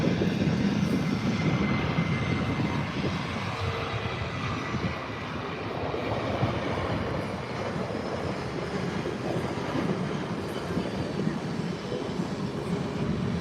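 A plane takes off at Manchester Airport, heard from the visitor park as a broad, continuous engine roar that holds steady and fairly loud for the whole stretch, with no clear speech over it.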